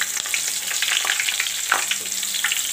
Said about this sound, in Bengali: রসুনটা একটু পোড়া পোড়া হয়ে ভাজা হয়ে গেলে এখানে আমি পেঁয়াজটা দিয়ে দিব